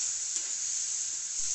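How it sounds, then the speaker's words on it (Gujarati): Finely chopped tomato sizzling in hot spiced oil tempering for a potato curry, a steady, bright, close frying hiss with no break and no talking. "હવે એ ટામેટાને આપણે વઘારમાં એકાદ મિનિટ માટે આ રીતે સાંતળી લઈશું"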